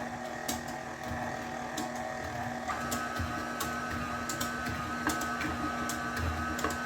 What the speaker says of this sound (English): they said that it could be too thick for the mixer